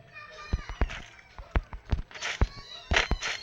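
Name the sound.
cat meowing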